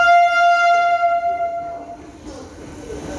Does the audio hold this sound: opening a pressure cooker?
no